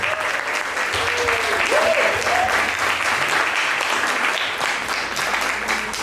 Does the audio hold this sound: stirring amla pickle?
no